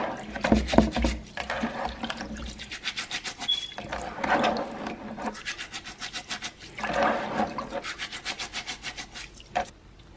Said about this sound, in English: now I'm going to continue to wash the rice